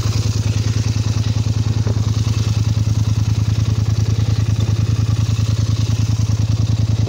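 Polaris Sportsman XP 850 EFI quad engine running close by, a loud steady rhythmic low chug with fine rapid pulsing and a little clatter, holding an even pace throughout with no talk.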